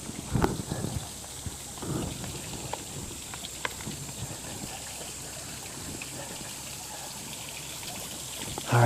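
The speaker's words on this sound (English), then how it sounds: "Let's go back here where this waterfall is." Waterfall on a stone-path garden at a botanical garden arboretum in Dubuque, Iowa, giving a soft, steady trickling and splashing wash of water, fairly faint, with a few brief knocks and no clear talk.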